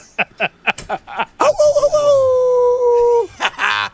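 Several people mimic a wolf howl with their voices, a long rising and sustained howl after a few short yips and vocal bursts, loud and close, followed by more short exclamations.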